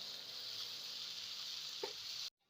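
Masala frying in a pan with splashes of water for a chicken feet curry gives a steady, close hiss of sizzling, broken by one soft clink just before the sound cuts off abruptly.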